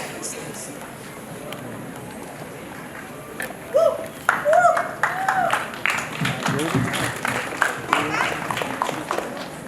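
Audience applause breaks out at the Boys 3 Marathi film's music launch event in Pune, a dense burst of clapping that rises partway through and carries on over murmuring voices.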